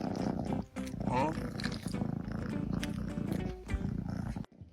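A cat purring close up in a steady, continuous rumble, with music or voices layered over it throughout before a brief drop near the end.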